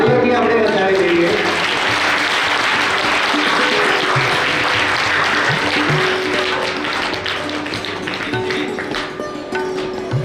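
Sustained applause from an audience at a farewell ceremony for a retiring primary school principal, steady dense clapping filling the room for several seconds while a voice speaks over it through a loudspeaker, the clapping thinning slightly toward the end.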